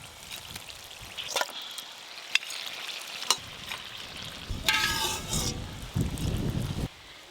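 Boiled mutton goes into a hot spice masala and fries, with a busy sizzle alongside scraping stirs and a few sharp clatters from the utensil against the pan, close by.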